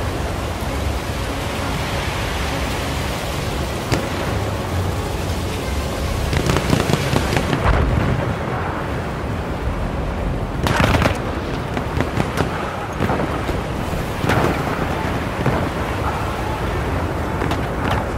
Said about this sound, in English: Enemy artillery barrage to stop firing.